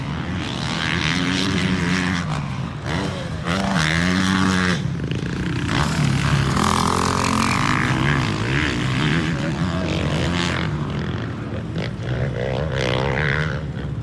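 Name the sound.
KTM 450 SXF motocross bike riding on track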